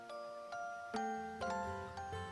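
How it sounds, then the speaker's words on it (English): Wedding bells from the video game The Royal Trap ring out in a short series of clear, resonant chimes, several overlapping strikes heard alone at moderate volume. "Ooh, wedding bells."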